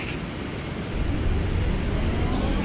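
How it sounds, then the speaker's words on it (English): F-16 jet engine spooling up to afterburner in a 1999 flight simulator game, a loud broadband roar that swells and thickens after the first second, then holds as a steady rushing wall of noise. "Go ahead and power up your engine to afterburner."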